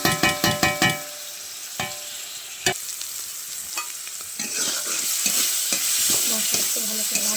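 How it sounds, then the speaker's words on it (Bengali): Cumin and ginger paste sizzles steadily in a pan with fried potatoes, stirred with scraping strokes; a few sharp knocks come early, then a continuous close frying hiss. "মশলা ভালো করে ভাজা করে নেব।"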